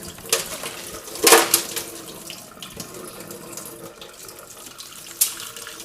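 Cold water runs from a kitchen tap as pickles are rinsed, a steady splashing stream with a few louder bursts and gushes where the flow strikes the produce and sink.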